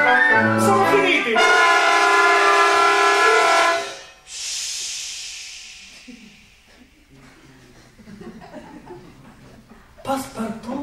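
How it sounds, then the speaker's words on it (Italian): A cartoon train comes to a stop at a small village, with a sustained horn-like tone, then a loud hissing release of steam fading out, followed by voices and laughter. "il treno si ferma presso un piccolo villaggio"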